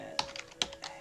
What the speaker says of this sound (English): start typing AVHE